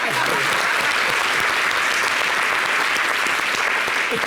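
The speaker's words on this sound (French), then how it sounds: "Merci d'applaudir Rosa Maria." Steady, dense applause from a TV studio audience fills the whole stretch, loud and continuous with no pauses.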